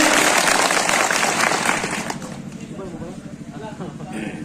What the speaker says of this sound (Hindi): एक जोरदार इन लोगों के लिए तालियां बजाएं आयोजन समिति के लिए